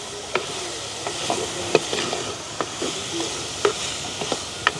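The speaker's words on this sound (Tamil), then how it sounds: "இந்த கறிமிளகாய் வெங்காயம் எல்லாம் வதங்க வேணும்" Curry chillies and onions frying in oil for a village night-time curry, giving a continuous close sizzle with intermittent knocks and scrapes of a stirring spoon, and no one speaking.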